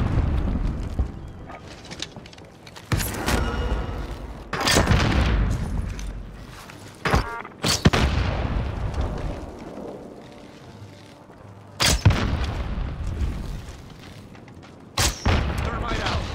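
A frag grenade and other heavy blasts boom in Call of Duty Warzone: several sharp, loud explosive bursts separated by a few seconds, over a continuous rumble of battle noise and gunfire.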